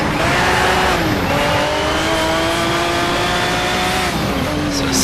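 A McLaren F1 race car's engine in the racing game Need for Speed Shift holds a loud, steady high-revving whine with gear-change dips and rising pitch, close and continuous, and no talk.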